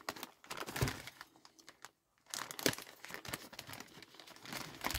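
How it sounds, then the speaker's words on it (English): A plastic zip bag holding an orange 10mm polyester climbing rope is opened and handled close up, giving soft, irregular crinkling and rustling with a short quiet gap partway through. "This comes in a nice little zip bag"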